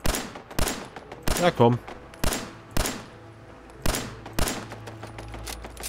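Turret gunfire in the video game Fallout 4, a string of sharp loud shots in irregular bursts with a short rapid volley, while someone speaks briefly over it.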